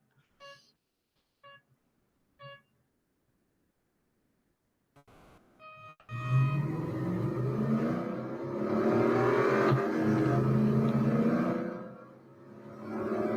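Race car engine in the video game Real Racing 3, revving up loudly and steadily with shifting pitch after a few short electronic beeps, engine note rising and falling through gear changes.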